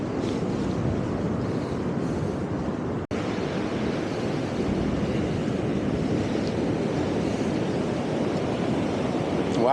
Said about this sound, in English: Listen to the ocean waves this morning.